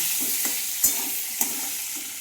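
Pointed gourd pieces fry in oil with salt and turmeric, giving a constant bright sizzle, with two louder utensil knocks as they are stirred.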